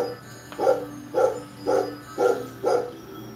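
A smart speaker in a workshop plays another dog-bark recording: five steady, evenly timed woofs in a row, moderately loud and clear, with no voices.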